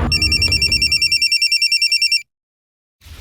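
A telephone rings with a fast, trilling electronic bell for about two seconds, then stops into silence.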